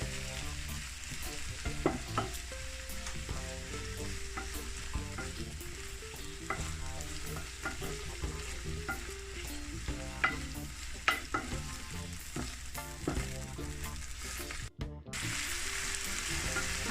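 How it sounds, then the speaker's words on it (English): A tablespoon of blended seasoning sautés in a pan for a Jamaican ackee and saltfish filling, a continuous close sizzle with occasional stirring scrapes, a faint tonal bed running underneath. "we're gonna saute this a little bit"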